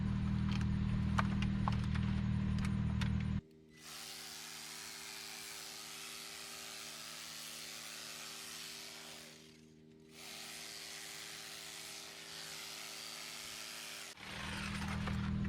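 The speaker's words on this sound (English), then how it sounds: "To cut it, I'm going to use this Toro 60-volt battery powered trimmer." A Toro 60-volt battery-powered hedge trimmer cutting hedges, a steady motor buzz with two short pauses, close and fairly loud, with a lower-pitched rumble at the start and end.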